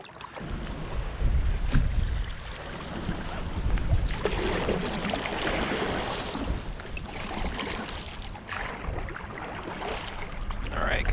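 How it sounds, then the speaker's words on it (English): Strong wind buffets the microphone aboard a fishing boat off Montauk in late fall, a steady loud roar mixed with rushing water and hull noise that lasts throughout. "This wind is cranking out here."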